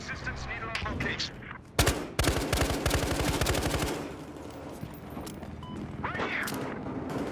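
Rapid automatic gunfire in Battlefield Hardline, a loud sharp shot followed by a sustained burst of close rounds, then fading into combat noise with brief radio-style voices.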